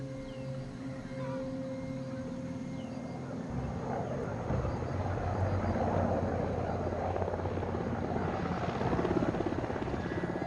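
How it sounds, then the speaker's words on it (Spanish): A United Nations helicopter passes far off above a forest, its steady rotor drone rising slowly in loudness across the whole stretch without ever coming close. "Lo que se escucha en la distancia es un helicóptero de Naciones Unidas que recorre el bosque"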